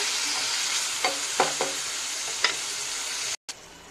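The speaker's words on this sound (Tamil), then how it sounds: "இதோட உப்பு, நல்லா வதங்கட்டும்." Tomatoes and salt sauté in a pan with a constant close sizzle, punctuated by a few distinct scrapes of a spoon stirring, with a short gap near the end.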